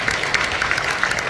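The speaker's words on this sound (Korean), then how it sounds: "박수 한번." An audience claps together at a network-marketing compensation-plan seminar, a brief, dense burst of applause heard fairly close and steady throughout.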